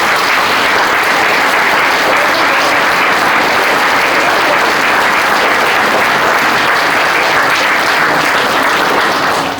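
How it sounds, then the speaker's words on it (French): Loud, sustained applause from a large audience at a mayor's 2024 New Year's greetings ceremony, cheering the volunteers of women's associations, with dense, continuous clapping filling the whole stretch without a break. "je vous demanderai ce soir d'applaudir les bénévoles de des associations de femmes"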